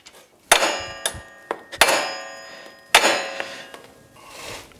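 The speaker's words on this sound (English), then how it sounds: "I can swing the hammer to hit the nut" Hammer blows on a castle nut during wheel bearing replacement on a Yamaha YXZ1000R, about five sharp metallic strikes at uneven intervals, loud and close, each ringing briefly.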